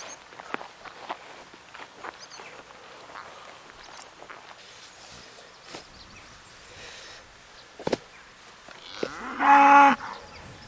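On an Irish cattle farm, a cow lets out one loud, close moo near the end, after a stretch of quiet rustling footsteps and scattered soft knocks in the field.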